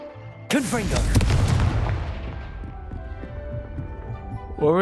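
A Confringo fire spell detonates in Hogwarts Legacy with a sudden loud boom that rolls into a long, fading rumble with debris crackle, and a voice speaks faintly near the end.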